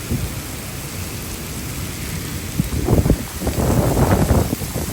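Heavy rain with thunder during a rainstorm, heard from inside or around a rear mount turbo Nissan Z. A steady wash of rain builds into louder rumbling bursts in the second half, close and dense, with no talking.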